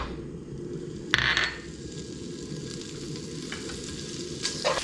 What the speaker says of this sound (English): First, we're going to throw our bacon in.